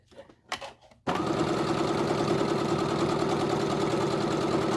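A sewing machine back-stitches a seam on a medical face mask. A few quiet handling taps come first, then a loud, steady mechanical whirr and rapid needle chatter run without a break to the end.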